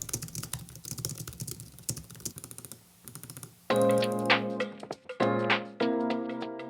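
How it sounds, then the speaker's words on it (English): Rapid keyboard typing on a matte desk mat with quick clustered keystrokes, close and fairly loud; the later bursts sound fuller and more resonant. "here is a quick sound test with the keyboard."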